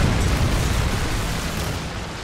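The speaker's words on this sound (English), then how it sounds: "Friendly Predator missile inbound." A Predator missile detonates in a modern military shooter video game, a loud broadband blast whose rumbling roar fills the moment and slowly decays, with no speech over it.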